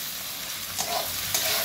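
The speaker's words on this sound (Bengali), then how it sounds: "তো পেঁয়াজটা ভাজা হয়ে গেছে, এবার আমি টমেটোটা দিয়ে দেবো" Sliced tomatoes go into fried onions in a pan, a constant close sizzle with two brief stirring scrapes partway through, no voices.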